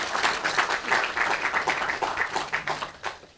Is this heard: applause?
yes